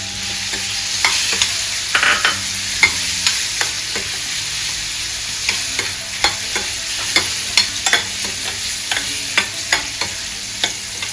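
Banana pieces sizzle in hot ghee in a pan, with a spoon or ladle scraping and stirring in steady, repeated strokes over a constant frying hiss.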